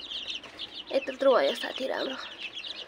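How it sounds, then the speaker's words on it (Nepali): A rooster and hens cluck in a farmyard. A few short, fairly close calls rise in the middle of the clip, and a person speaks briefly over them. "यहाँ तल चाहिँ एउटा भाले छ यो ठुलो भइसक्यो"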